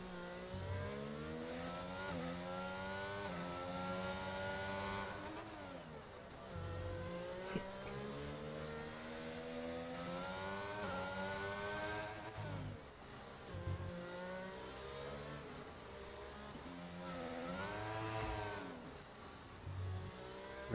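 A race car engine in a sim racing video game revs and climbs through gears in long rising and falling sweeps, continuous and loud with brief dips between shifts.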